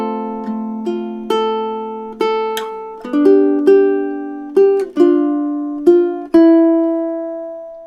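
A ukulele plays measures 5 and 6 of a song, a steady sequence of clear plucked notes and chords ringing out one after another, close and alone with no voice over it.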